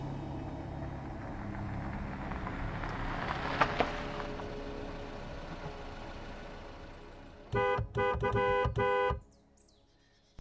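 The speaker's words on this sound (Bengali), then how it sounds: "ফাগুয়ারা ভিলার গেটে গিয়ে হর্ন বাজাতে" A Scorpio SUV's engine rumbles and idles, then its horn sounds at the gate of Faguara Villa in a burst of about four loud, close honks before falling quiet.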